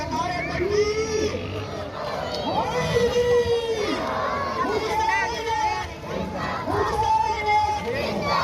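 A large Chehlum procession crowd chanting the Takbeer slogan, many voices shouting together in loud, rolling waves with overlapping cries, continuous and near throughout.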